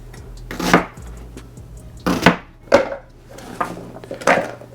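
A knife chops an onion into large chunks on a cutting board, five or six separate firm thuds spaced irregularly, close and clear with no talk.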